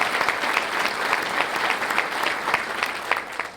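Another round of applause rises for Nina at an education awards night, a crowd clapping steadily with some sharper individual claps standing out and a slight fade toward the end.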